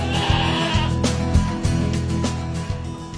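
Goats bleat repeatedly in a pen during a monthly livestock check by agricultural officers, loud close cries overlapping one another over a steady farmyard background.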